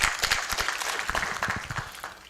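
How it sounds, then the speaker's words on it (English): An audience at a hotel accounting masterclass claps for itself, a dense burst of many hands applauding together, steady and fairly loud, tapering slightly toward the end. "Can you clap for yourself, please?"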